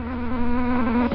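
Mosquitoes buzz in a bat video game, a loud, steady, high-pitched drone that holds unbroken for about a second with no talking.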